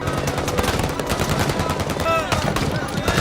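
Loud, dense bursts of automatic gunfire from advancing fighters in a brutal street battle for Kobane, rapid overlapping shots with a raised voice partly mixed in.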